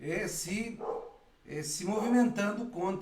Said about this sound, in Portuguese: isso é o cachorro, isso aqui é a trilha sonora de fundo